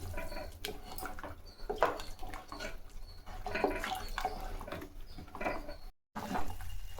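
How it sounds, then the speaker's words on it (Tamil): A pot of Tamil tamarind kuzhambu with colocasia simmers steadily, giving a soft continuous bubbling and faint clatter close by, with no one talking. "குழம்பு நல்லா கொதிக்குதுங்க."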